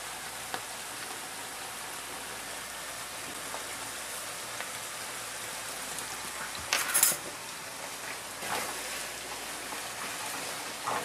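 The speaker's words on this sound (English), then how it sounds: "sizzle going for our minced onions, minced garlic, and canned mushroom" Minced onions, minced garlic and canned mushroom sizzling in a pan for spaghetti sauce, a steady soft crackling hiss with a couple of sharper clatters partway through.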